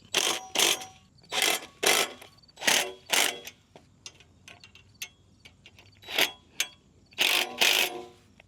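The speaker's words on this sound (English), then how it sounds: "putting our through bolts in, I'm coming behind and tightening them all up" Through bolts being tightened on a sawmill frame, heard as loud, close bursts of ratcheting clicks that repeat in an uneven rhythm, separated by short quiet pauses.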